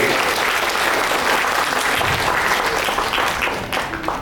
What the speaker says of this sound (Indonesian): tepuk tangan buat PPIR